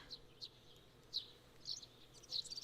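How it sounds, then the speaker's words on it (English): Faint, high bird chirps in short scattered bursts over quiet background hiss, like distant songbirds at morning, in the video game Steam Prison. "And the birds are singing."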